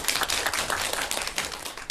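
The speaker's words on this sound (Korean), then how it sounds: "박수로 한번 전부 다 드립니다" A seminar audience applauding together at a workplace training session, a dense, steady wash of many hands clapping close by for about two seconds.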